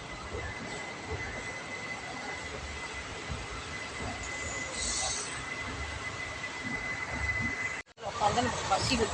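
Steady rumble of a train in motion, with a constant high whine and rattling, briefly cutting out near the end before resuming.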